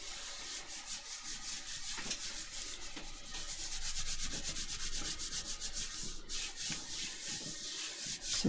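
Paper stuck down in a junk journal and rubbed flat by hand, making close, quiet rhythmic scratchy strokes in quick back-and-forth bursts throughout, with no speech.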